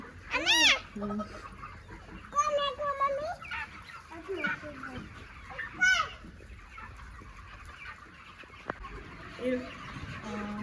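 Chickens clucking and squawking at a poultry farm, several loud close calls in irregular bursts over a steady background, with speech at times.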